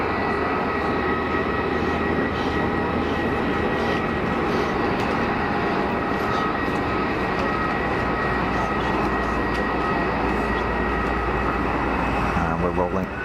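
An Airbus A220 rolling down the runway at Geneva Airport gives a steady, loud engine roar that holds for the whole stretch, with a voice talking faintly under it.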